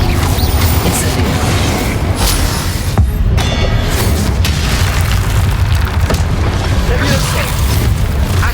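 Incendio fire spell blasts in the Hogwarts Legacy video game, loud booming bursts layered over a dense, continuous wash of game effects and music with no clear pauses.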